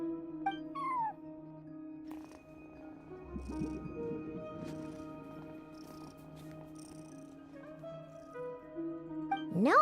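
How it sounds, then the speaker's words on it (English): A cat at a front desk in Genshin Impact gives a few short meows, alone over steady ambient game music with soft chimes, and ends on a louder rising cry. "No one except for a cat watching over the front desk."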